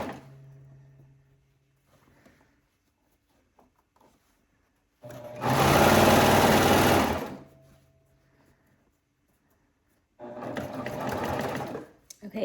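A sewing machine stitching an overlapping seam on color-block joggers: two loud bursts of rapid mechanical whirring with quiet handling noises between them.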